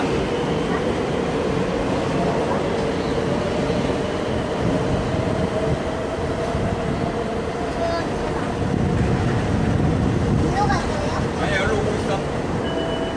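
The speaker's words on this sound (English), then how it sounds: "The train approaching platforms C and D will end its service at Changi Airport." An SMRT East West Line train pulls into Tanah Merah station with a steady rumble and hum of wheels and motors, while a platform announcement plays over it.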